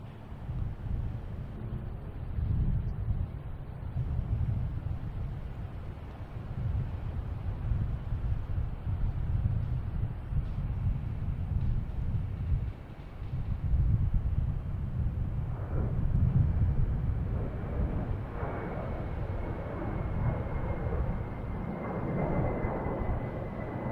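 An American Airlines airplane taking off at Boston Logan Airport, a steady distant rumbling roar with wind noise that swells and thins over about twenty seconds, a faint whine rising in the latter half.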